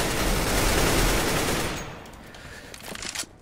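Automatic gunfire in Counter-Strike: Global Offensive: a loud, rapid burst of shots runs for nearly two seconds, then gives way to a few quieter, scattered shots and game sounds.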